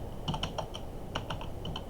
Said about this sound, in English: Then you want to type